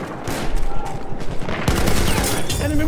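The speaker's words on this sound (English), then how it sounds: "Enemy machine gun sighted." Machine gun fire in the Battlefield 1 video game, with loud rapid bursts and rattling shots close by and a dense fusillade of overlapping gunfire that keeps going throughout.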